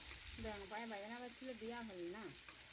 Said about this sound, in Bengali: একসাথে বেগুন আর আলু একটু নাড়াচাড়া করে মিশিয়ে নেব।